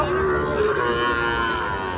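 A cow lets out a long, low moo close by at a cattle market, with a busy outdoor crowd murmuring behind it.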